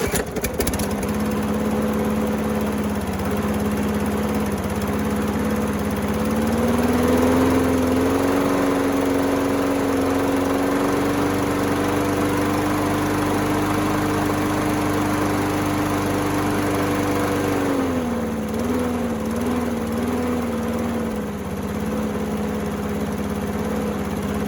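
A 5 hp Briggs & Stratton Quantum engine on an MTD lawn mower runs at low throttle, long stuck from sitting a season, with a steady close drone whose pitch rises midway, holds, then drops back; no talk.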